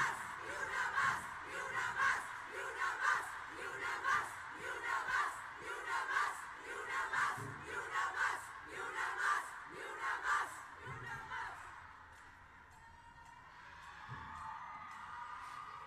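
Crowd shouting protest chants within a played song, a repeated rhythmic cadence of massed voices over music for about twelve seconds before giving way to quieter sound.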